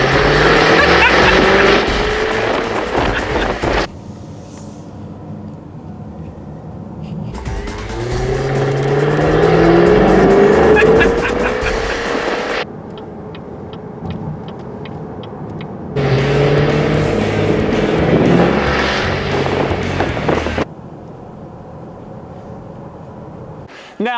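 Loud Jaguar F-Type V8 S engine revving and accelerating in bursts, with pitch sweeping up through the gears, separated by quieter stretches of idling.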